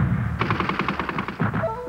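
Gunfire in a film about Doctor Bethune, with a fast rattling burst of machine-gun-like shots that comes loud and close and ends in a brief ringing tone.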